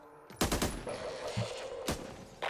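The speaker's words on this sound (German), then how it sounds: "Warum schießt du auf mich?" Back 4 Blood video game gunfire cracks out in a few sharp bursts, loud and near, separated by short gaps of lower background noise.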